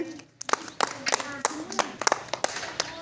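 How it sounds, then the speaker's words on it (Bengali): Children clapping their hands during a counting ball game at a primary school: a quick run of sharp, fairly close claps in an uneven rhythm, with a voice calling out between them. "হাততালি"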